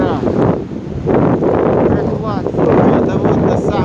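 Strong stormy wind buffets the microphone at the Kauguri seaside in Jurmala, a steady roaring rush with gusts that rise and fall, heard close and loud with voices underneath.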